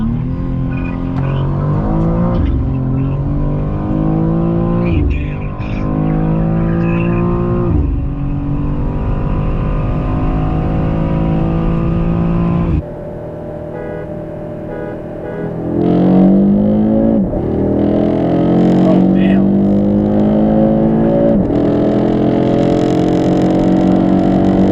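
A 2024 G87 BMW M2 and a 2024 8Y Audi RS3 drag race, loud engines revving and climbing through repeated gear shifts, a pause between two runs, then another hard acceleration close by.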